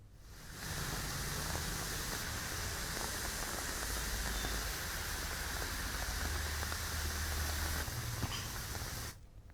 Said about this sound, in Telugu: వికారాబాద్ జిల్లాలో వర్షం దంచు కొడుతుంది